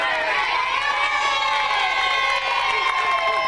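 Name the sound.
big crowd cheering at egg throwing contest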